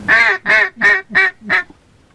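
A single-reed, high-impact plastic wood duck call blown close up gives five loud, evenly spaced quacking notes, each slightly shorter than the last, with nothing else heard.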